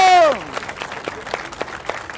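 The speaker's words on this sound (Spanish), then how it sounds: "Dale un fuerte aplauso para Eminem." A short burst of scattered audience clapping follows a voice at an outdoor clown street comedy show in Mexico City's Alameda, the claps loose and uneven with crowd noise around them.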